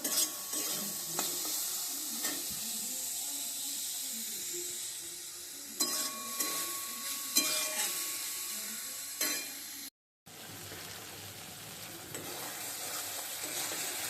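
Boiled soybeans frying in oil with salt and turmeric, a steady close sizzle with scraping stirs through most of the stretch, broken by a brief cut to silence near the end before the frying hiss resumes.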